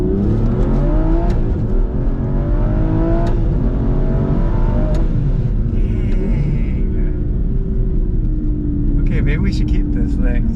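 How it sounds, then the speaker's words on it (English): Aston Martin V12 Vantage S with a single-clutch gearbox revving hard at full throttle toward 7,000 rpm, a loud close in-cabin engine howl climbing in pitch with gear-change snaps, while people talk over it. "give you that classic single clutch snap, full throttle snap. Oh gosh, this thing revs to the moon."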